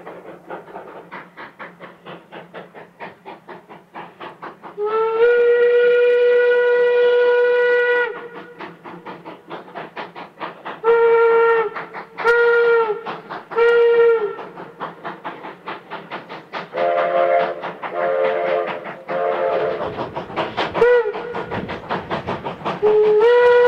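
A train runs with steady rail clatter while its steam-style whistle sounds in several blasts: one long held tone, then a cluster of short toots and a final series, loud and close, with no talking.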